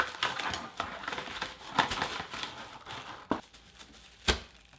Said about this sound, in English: Plastic wrap.